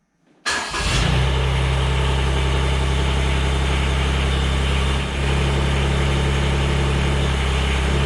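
A Mahindra eMax 20S HST compact tractor engine fires up abruptly after a brief crank, then settles into a loud, steady, close idle that drones on without a break.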